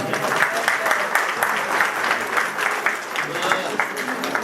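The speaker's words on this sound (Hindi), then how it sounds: "तो कृपया आप लोग तालियों से स्वागत करें" A wedding audience claps steadily throughout to welcome the groom during a religious gathering in Tagore Garden, New Delhi, with dense sustained applause and no clear talk.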